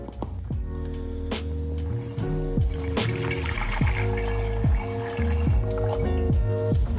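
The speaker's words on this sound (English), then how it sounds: "Let's get our sanitized funnel out and put some of that brandy back in." Brandy pours through a sanitized funnel into a wooden barrel used for ageing beer, giving a steady close liquid trickle with repeated drips and glugs throughout.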